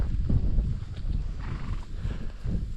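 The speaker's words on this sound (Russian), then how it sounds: "На всех яйлах вы обязательно встретите стадо лошадей" A herd of horses moves on an open mountain pasture, with low hoof thuds, snorts and shuffling close by, a faint whinny breaking through the steady outdoor rumble, no talk.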